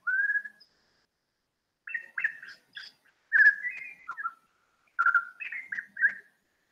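A white-rumped shama, a bird common in Wayanad, sings clear, rich whistled phrases in several separate bursts with short silences between them, heard alone against a quiet background.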